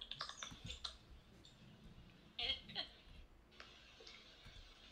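Quiet clicks of typing on a computer keyboard come in uneven bursts, faint and close, with a soft voice murmuring in the background.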